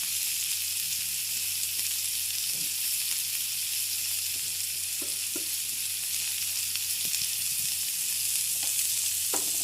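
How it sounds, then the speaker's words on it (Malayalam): Onion and green chili sautéing in a pan, a steady close sizzle and crackle that runs throughout, with occasional soft stirring scrapes and taps and no talking. "വലിയ സവോള അതിന് കുറച്ചധികം ഉണ്ട്, ഒരു പച്ചമുളക് നന്നായി വഴറ്റുക"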